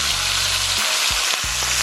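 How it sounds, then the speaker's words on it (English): Fish for Jamaican escovitch fries in oil with a close, continuous hiss and crackle. A few low thuds come midway as the fish is turned in the pot. "the fish is being fried onto this side"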